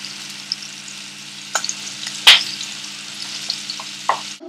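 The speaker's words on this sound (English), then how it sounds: "I'm going to do that for the rest and then just lightly fry them." Prawns fry lightly in hot oil with a soft, steady sizzle and a few sharp pops and clicks of a utensil, close by and quiet.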